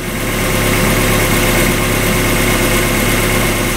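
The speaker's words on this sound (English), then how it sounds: "The idle's starting to calm down." A Mazda Miata engine idles steadily up close, a smooth continuous hum with a faint low rumble, no voices.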